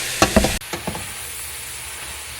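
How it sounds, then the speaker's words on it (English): Collard greens sizzle in oil while being stirred, with a few loud scraping spoon strokes at the start, then a quieter steady hiss and one more stir near the end. "And as I stir, and it gets absorbed in the oil, you're going to see it cook down a little bit."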